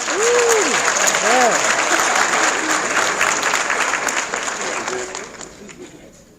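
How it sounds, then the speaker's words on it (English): At a UNC-Chapel Hill Black alumni event, the audience applauds new Golden Rand Society inductees with a full, dense round of clapping, brief whoops and cheers rising over it early, before the applause gradually fades. "Let's salute them with a round of applause."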